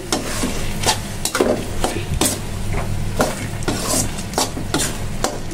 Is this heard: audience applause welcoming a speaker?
no